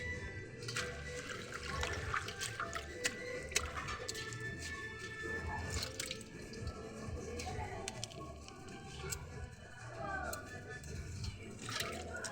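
Leafy greens are washed under running water, a steady gushing and splashing from a tap with a few clatters, close by and moderately loud throughout.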